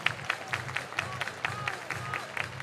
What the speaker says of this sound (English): The crowd still tense, clapping along to the DJ-induced claps.